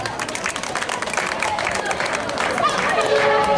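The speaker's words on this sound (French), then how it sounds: "Applaudissez pour ces apprenants." A graduation ceremony audience applauds the graduating learners, a dense continuous patter of many hands blending with crowd murmur and voices throughout.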